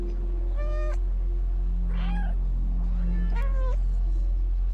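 A cat in the video game Stray meows several times, clear separate calls standing out over a steady low hum.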